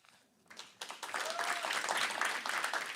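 An audience at a Boston Fashion Week glam event breaks into clapping that starts with scattered claps and swells into steady, dense applause, with a brief tonal whistle-like sound partway through.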